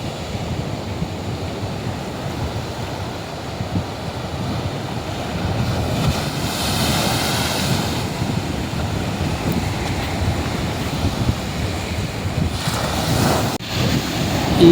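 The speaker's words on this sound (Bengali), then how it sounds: "এখানে খুবই স্রোত থাকে, দেখতেই পাচ্ছেন জলের কেমন সাউন্ড" Ocean surf with a strong current breaks along a Sri Lanka beach, a steady loud rush of water with gusts of wind noise and swelling wave crashes, with no voices.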